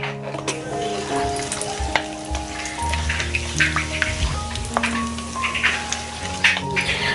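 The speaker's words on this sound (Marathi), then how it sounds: "तेल गरम झालंय, यामध्ये मी अर्धा चमचा हळद घातली आहे आणि पाव चमचा हिंग टाकलाय" Turmeric and asafoetida dropped into hot oil sizzle and crackle steadily up close, a continuous frying hiss with small pops.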